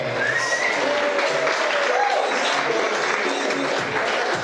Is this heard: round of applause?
yes